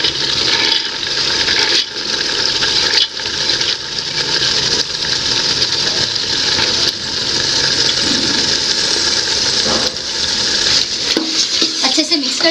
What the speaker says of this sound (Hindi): अब मैं इसमें दाल डाल दूँगी।